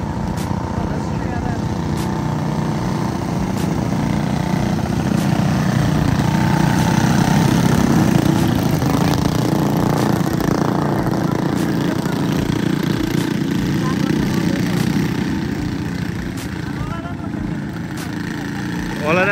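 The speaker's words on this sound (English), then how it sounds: "Mini bikes." Mini bike engines roar steadily at the Carlisle River Bottom Raceway, a loud continuous buzzing drone that swells and eases as the bikes race past, with crowd noise mixed in.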